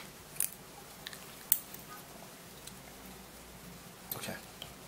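Wire is cut close up with a cutting tool, giving a few faint, sharp snips spread across an otherwise quiet moment with low background noise.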